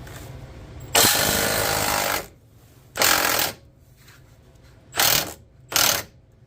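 A wrench works loose a control arm bolt on a Hyundai Sonata in a loud, rattling mechanical burst, then three shorter bursts follow after pauses. Nobody talks.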